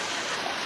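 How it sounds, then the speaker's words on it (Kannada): Water pours steadily from the mouth of a Basavanna statue at a temple in Mangalore, a constant, close rushing splash like a small waterfall, filling the short stretch without pause or voices. "ಬಸವಣ್ಣನ ಬಾಯಲ್ಲಿ ನೀರು ಯಾವಾಗಲೂ ಬರ್ತಾ ಇರುತ್ತೆ"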